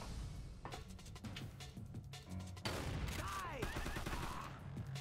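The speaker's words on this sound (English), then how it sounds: "So even though I'm shooting him, he's not reacting." Gunfire from the Xbox 360 game Secret Service, a steady run of shots with a louder, denser burst in the second half over constant game noise.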